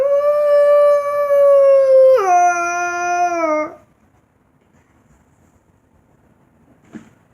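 A wolf howls loudly in one long sustained tone that jumps in pitch partway through, then falls silent, followed by a faint brief sound near the end.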